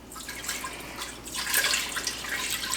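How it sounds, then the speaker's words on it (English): Chicken broth, 32 ounces, pours from a carton into a pot on a stovetop, a steady liquid splash with dripping that grows fuller and louder partway through, heard up close with no talking. "Just pour it right in there."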